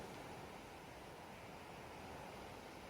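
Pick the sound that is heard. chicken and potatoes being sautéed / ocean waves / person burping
ocean waves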